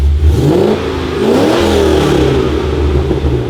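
A truck engine being built up, with a deeper exhaust note, revs up and down loudly and continuously at close range while misfiring.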